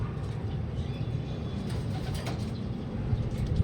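Pigeons of the Santa Ana line in a breeding loft, soft low cooing over a continuous rumbling background, close but muted, with no clear talk.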